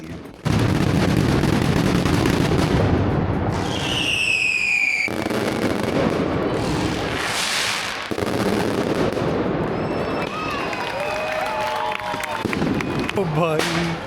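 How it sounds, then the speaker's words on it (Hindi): Dense fireworks and firecrackers crackle and boom nonstop during Las Fallas in Valencia, Spain, with whistling rockets and sharp bangs over a loud crowd whose voices carry underneath the barrage. "तकरीबन 1 घंटा पटाखे जले हैं।"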